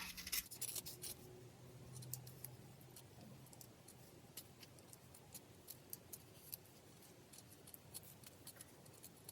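Scissors snipping through a piece of fabric for a tabby cat collage, a series of faint, close, irregular clicks and snips over a quiet room background.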